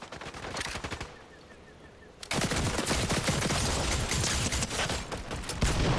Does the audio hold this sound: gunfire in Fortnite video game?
yes